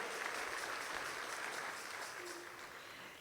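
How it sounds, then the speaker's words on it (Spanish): A church congregation applauds the Lord during a Spanish-language sermon, a dense, steady wash of many hands clapping that fades slightly toward the end, with no voices over it. "Denle un aplauso al Señor."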